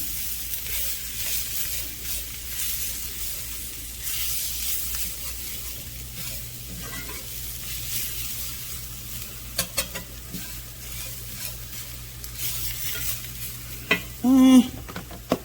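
Flour cooking in oil in a pan for gravy to accompany smothered pork chops, a steady soft sizzle and occasional stirring scrapes close by, with a few sharper clinks near the end and no talking.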